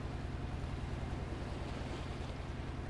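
A newly built ship's engine pushing through water in the video game Breakwaters, a steady low pulsing drone mixed with washing water and wind noise, fairly quiet and unbroken.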